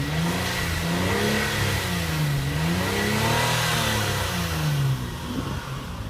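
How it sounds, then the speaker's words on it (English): Hyundai Sonata V6 with stock exhaust before a muffler delete, revved repeatedly so the pitch rises and falls in smooth waves over a steady mid-toned engine hum, close and moderately loud, no voices. "go ahead and rev her up"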